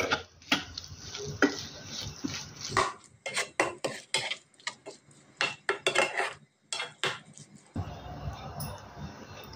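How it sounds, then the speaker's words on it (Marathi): Salt being mixed into Maharashtrian tomato chutney in a pan: repeated bursts of spoon scraping and metal clatter against the pan, with a soft sizzle underneath and brief pauses between strokes. "मीठ देखील व्यवस्थित असे मिक्स करून घेऊया"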